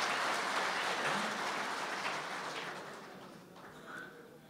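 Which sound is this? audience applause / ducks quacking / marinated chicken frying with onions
audience applause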